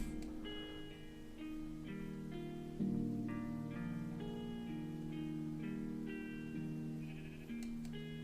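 Several Minecraft sheep bleat in turn, wavering calls repeating over a soft, steady musical background in the game.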